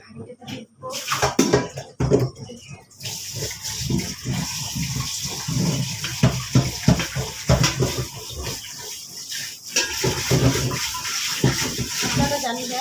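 Water is poured over basmati rice in a cooking pot at home, a fluctuating splash and pour with clattery knocks running throughout the stretch, heard alongside a voice talking.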